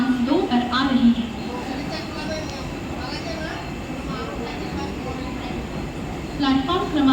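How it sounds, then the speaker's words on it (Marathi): A Mumbai AC local train rumbles into platform 2 at a station at night, a continuous low roar with faint rail clatter while a voice speaks over it. "हिंदी लोकल थोड़ी ही समय में प्लेटफॉर्म क्रमांक 2 पर आ रही है"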